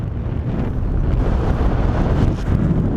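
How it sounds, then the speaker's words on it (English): Strong headwind buffets the microphone of a paraglider soaring coastal cliffs at Star of Greece, South Australia; a constant loud low roar and rumble of wind noise, steady throughout with no talking. "The wind's come round a bit, but still a pretty strong headwind."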